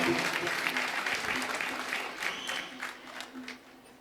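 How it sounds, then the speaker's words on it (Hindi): Audience applause at a Hindi poetry gathering (kavi sammelan), a dense patter of clapping that fades gradually over about four seconds, with a voice faintly audible underneath. "क्या बात है, तालियां।"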